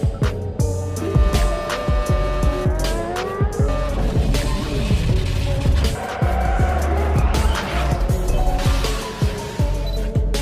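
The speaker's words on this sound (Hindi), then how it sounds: "रेस ट्रैक पर दौड़ती हुई इस कार के आगे के दो पहिए अचानक ही कार से आगे निकल पड़ते हैं।" A race car runs on a track as its two front wheels break away, with a loud, continuous engine roar and sharp, repeated tire squeals and skids.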